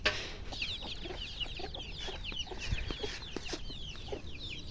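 Chickens cluck and chatter nearby in a steady barnyard din, with birdsong overhead; a rooster's crow is hard to pick out from the flock.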